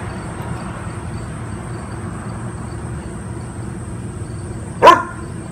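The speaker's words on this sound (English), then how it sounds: "You can hear the dogs." A dog indoors in a house lets out a single sharp bark near the end, after a stretch of quiet room hum.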